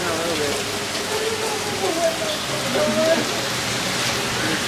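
Steady rain pours down outdoors during a New Mexico summer storm, a dense continuous hiss with scattered drops, no voices over it.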